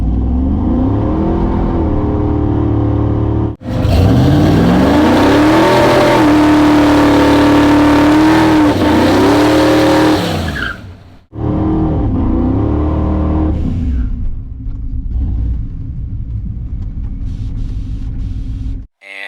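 A boosted, nitrous-fed Ford Lightning pickup roars down a drag strip, its engine loud and near, revving hard through rising gear pulls with brief lifts between them and no voices over it.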